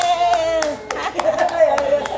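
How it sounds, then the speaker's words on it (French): A short burst of clapping, several sharp hand claps at an uneven pace over a person talking. "Applaudissez!"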